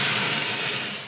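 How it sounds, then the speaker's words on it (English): Water poured onto a fire in a hot bread oven sends up a loud, dense steam hiss, close and steady before fading slightly at the end. "Then we're gonna pour some water on our fire."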